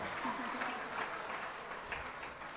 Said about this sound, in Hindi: ताली बजाओ तो।